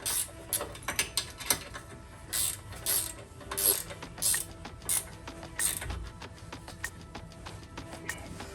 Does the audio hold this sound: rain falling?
no